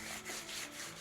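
Hands rubbing about two teaspoons of seasoning into the sides of a whole leg of lamb for an herb-roasted Easter roast, a close, steady scuffing and rubbing with no talk.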